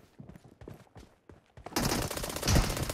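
Loud automatic gunfire from the battle-royale shooter PUBG Mobile erupts partway through, a dense rapid burst that follows quieter scattered game sounds and keeps going to the end.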